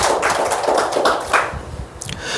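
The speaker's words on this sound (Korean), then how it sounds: "박수 한번 주세요." A church congregation applauds, a dense patter of clapping hands that carries steadily for a couple of seconds and thins out toward the end.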